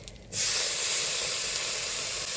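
Prawns hit hot oil in a pan for Bengali-style frying, and a loud, steady, close sizzling hiss starts after a brief quiet moment and carries on without a break.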